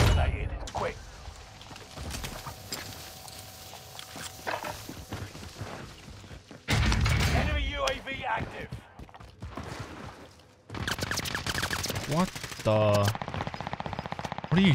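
Rapid automatic gunfire from a battle royale shooter game bursts out repeatedly in loud volleys, with quieter stretches of footsteps and mechanical clatter between them and players talking over the action.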